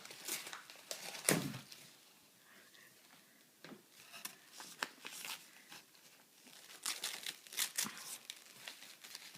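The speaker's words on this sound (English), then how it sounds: "You have to rip it open." Wrapping paper on a present being torn and crumpled open, with a sharp rip early on and scattered crinkling bursts throughout, fairly close and moderately loud, with occasional voices in the background.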